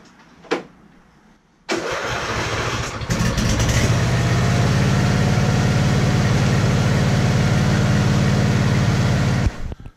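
The engine of a riding lawn mower, just repaired, cranks briefly, then catches and settles into a loud, steady idle that runs for several seconds before cutting off.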